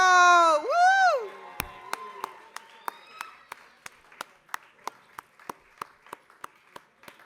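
After a rising whoop, steady rhythmic applause from an audience at a Lunar New Year community celebration follows, with sharp single claps evenly spaced and fairly close.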